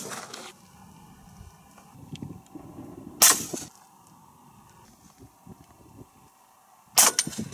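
Subsonic 300 Blackout rounds fired from an 11.3-inch rifle outdoors, two sharp reports a few seconds apart, loud and abrupt over a low background rumble.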